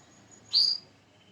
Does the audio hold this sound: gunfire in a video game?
no